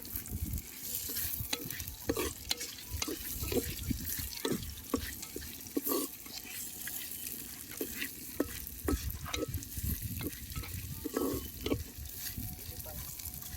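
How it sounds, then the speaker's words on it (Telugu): Chopped onions sizzle and crackle in ghee inside a clay biryani pot cooked outdoors, a steady frying hiss broken by scattered stirring scrapes and pops, close and moderately loud. "ఉల్లిపాయలు వేగాయండి."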